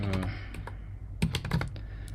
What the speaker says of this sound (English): Now if I type something here